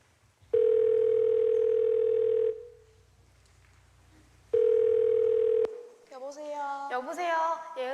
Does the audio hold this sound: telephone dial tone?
yes